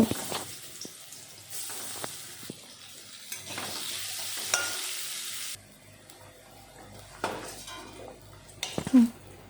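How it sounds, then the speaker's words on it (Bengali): Potato pieces frying in oil in a kadai, a soft continuous sizzle with occasional stirring clatters and scrapes from a spatula; quiet and close by, no talking. "এখন আলু ভেজে নেব"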